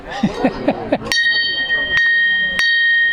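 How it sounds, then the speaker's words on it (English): A John Deere bell mounted on a post at a heritage farm festival rings three times, each clang close and loud with a long shimmering tone, after a few seconds of someone speaking. "here is this is a bell mounted on this post, and it's made by John Deere"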